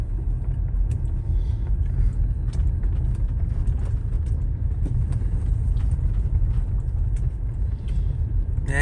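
A car slowly driving the roads of North Burial Ground cemetery in Providence, RI, heard as a steady, loud low engine and road rumble from inside the vehicle, with faint scattered clicks and no talking.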